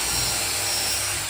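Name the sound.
drill pre-drilling holes in wood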